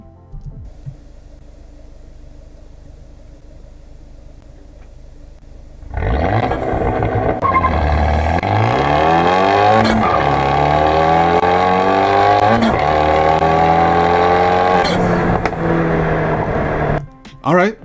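A tuned Fiat 124 Spider idles, then launches hard and accelerates through every gear, its loud engine climbing in pitch with each shift break, close and continuous before cutting off near the end.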